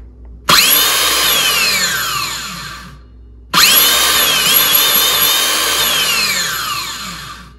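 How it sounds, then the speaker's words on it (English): A Makita 18-volt cordless circular saw, 6-1/2-inch class, spins up twice under trigger pulls: each time a loud motor whine rises almost instantly, holds steady for a few seconds, then winds down, with no voices. "did you notice how fast that saw spun up?"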